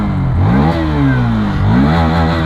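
Hero Xtreme 160 4V motorcycle on a highway during a 0 to 100 acceleration run: the engine revs up hard through the gears, pitch climbing, dropping at each shift and climbing again, loud and close.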